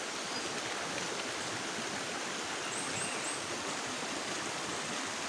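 A river stream flows past tall old bamboo, a steady broadband rush of running water, close and even throughout, with a few faint bird chirps above and no talk.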